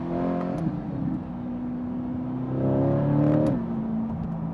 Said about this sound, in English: Gear 4 to 3 to 2, just instant.